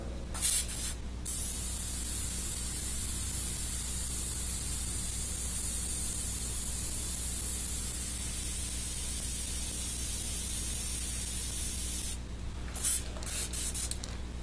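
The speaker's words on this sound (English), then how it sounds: "As I back the airbrush away from the surface, I get a wider fan that kind of fades out." An airbrush sprays paint onto a mural surface in a steady, continuous hiss that runs almost unbroken, with brief pauses at the start and near the end, close and alone with no talk.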